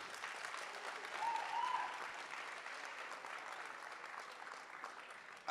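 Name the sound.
audience clapping hands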